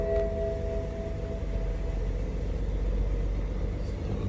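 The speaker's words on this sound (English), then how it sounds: "Now I'm going to start the car." A BMW car engine with a misfire runs as a low continuous rumble, steady and close, with no talk over it.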